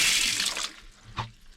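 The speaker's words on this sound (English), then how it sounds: "Water's on" Water gushes from a tap in a short burst that quickly tapers off, followed by a lone splash or drip, nearby and fairly clear with no voices.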